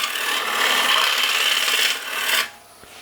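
A parting tool cuts into a wooden rice bowl being shaped on a lathe, giving a steady close rasping scrape that runs for about two seconds, swells briefly, then stops abruptly into near quiet.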